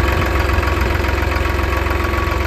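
A New Holland 3630 tractor with a modified fuel pump runs close by, its diesel engine chugging in a fast, even knocking rhythm at a steady, loud idle.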